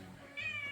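A cat gives a single soft, high meow at close range in a quiet indoor room, with no talking over it.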